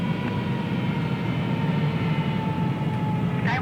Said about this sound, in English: Turkish 787 coming in to land